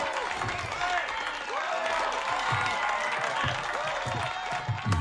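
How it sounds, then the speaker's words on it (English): In the Mortal Kombat 1 video game, a tea house crowd bursts into clapping and cheering after a fight, with dense steady applause and voices calling out over it. "at the end of this fight, the whole tea house starts clapping"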